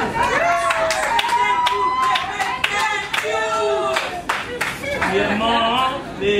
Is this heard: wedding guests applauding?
yes